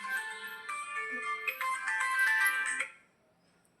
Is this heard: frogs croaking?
no